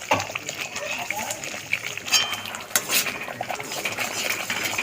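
Masala for Afghani egg curry being stirred and fried in a pan, with steady scraping and soft sizzle, a few sharp clinks of the utensil against the pan, running continuously at moderate level.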